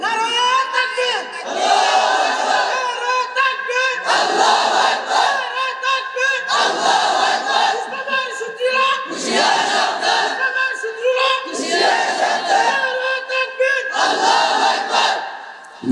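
A large crowd at an Islamic religious gathering roars the takbir slogan in unison, about six loud chanted bursts in a steady call-and-response rhythm, each swelling and fading before the next.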